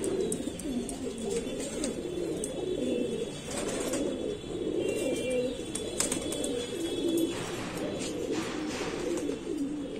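Several pigeons coo in soft, rolling, repeated calls close by, overlapping one another against a faint background hum.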